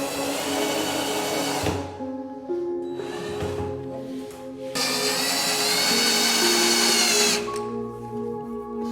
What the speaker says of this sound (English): We are screwing the middle piece with the base for the strength of the showcase.